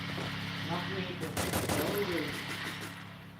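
Bursts of rapid gunfire crackle in the Free Fire battle royale game, a brief volley layered over steady game ambience while players chatter.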